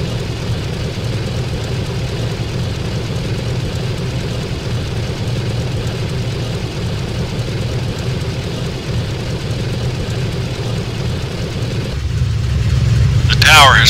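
A Vought SB propeller aircraft engine running on a carrier deck in a flight simulator game, a steady low droning hum that swells louder in the last couple of seconds.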